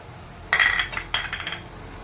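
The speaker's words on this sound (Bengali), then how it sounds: "এবার এই দুধটাকে অনর্গল নাড়তে হবে" A utensil stirs boiling milk in a metal pot for Nabadwip kheer doi, making two bursts of scraping, clinking strokes against the pot over a faint steady background.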